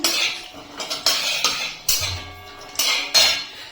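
Cashews stirred with a metal spoon in a hot pan for white pulao, giving a close run of sharp clinks and scrapes against the pan at an uneven rhythm, with no voices.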